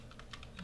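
Quick keystrokes on a computer keyboard, about eight light clicks in an uneven rhythm, close and soft over faint room noise.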